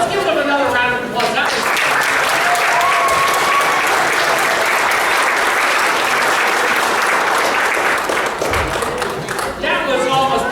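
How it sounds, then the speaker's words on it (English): A talent show audience breaks into loud, dense applause after a skateboard act, rising quickly after a brief voice at the start, holding steady, then easing near the end as a voice returns. "Let's give them another round of applause."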